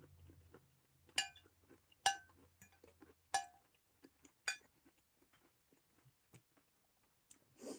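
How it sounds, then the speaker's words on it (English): Crunchy vegetables being chewed up close, a quiet series of crisp bites and crunches spaced about a second apart, with faint clinks and softer mouth sounds trailing off. "These vegetables are crunchy."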